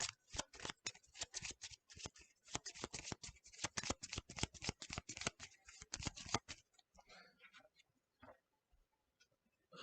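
Cards from Monster Hunter World: The Board Game are shuffled, drawn and handled on a table, producing a dense, rapid run of close, crisp riffling snaps that thins out into a few scattered slides and taps.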